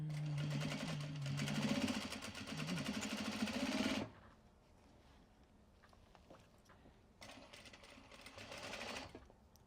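A sewing machine runs a straight stitch through Japanese fabric for a small sling bag, with a loud steady burst of rapid stitching, a pause with faint handling noise, then a second shorter run of stitching.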